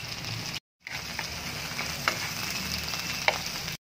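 Lechon kawali, crispy fried pork, is added to a pan with onion and tomato and fries with a steady, dense sizzle and a couple of soft stirring clicks, close and alone, briefly cut by a moment of silence.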